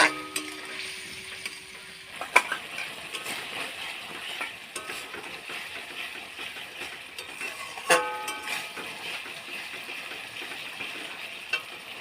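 Spice paste sizzling and being sautéed in a pan with a little water, a steady close frying hiss broken by a few sharp clinks of a utensil against the pan.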